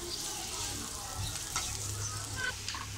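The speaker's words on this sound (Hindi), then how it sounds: "इसमें हम एक मीडियम साइज़ की प्याज ऐड कर रहे हैं," A medium onion frying lightly in hot oil gives a steady close sizzle that runs the whole time, with a few faint stirring clicks.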